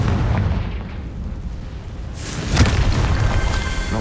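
A Confringo fire spell explodes in the video game Hogwarts Legacy, a close, loud, rumbling blast with a sharp burst partway through, over a steady low background roar.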